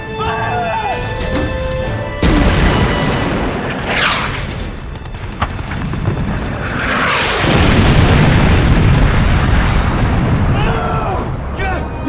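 Naval gun fired in a wartime film battle at sea: heavy booming blasts and crashing explosions roll through a loud dense mix, with voices shouting over the barrage.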